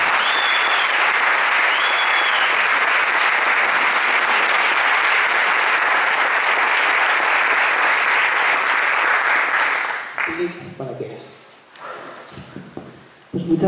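Loud, sustained applause from a seated audience at a political campaign event in León fills most of the stretch, then fades out into scattered claps and faint movement.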